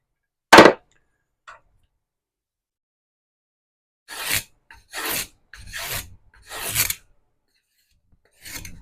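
A spokeshave pulls thick shavings off wood in a row of rasping strokes, one sharp scrape followed after a pause by four steady close passes and a final stroke, with no voices.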